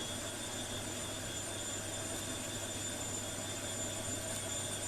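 A Cirrus Vision Jet in the X-Plane 12 flight simulator, a steady, even jet engine hum with a faint whine, unchanging and at moderate loudness.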